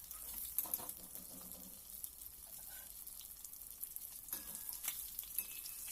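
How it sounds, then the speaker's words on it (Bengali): Fish frying in a pan at home, giving a faint, steady sizzle with a few soft stirring and scraping sounds and no talking. "দেখুন, আমি আপনাদের দেখিয়ে দিচ্ছি মাছটা আমি এইরকমভাবে ভেজে নিই।"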